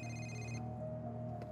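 A phone rings in Marvel's Spider-Man Remastered, a steady electronic ringtone with a bright repeating tone that drops partly away after a moment and leaves a lower hum. No one speaks over it.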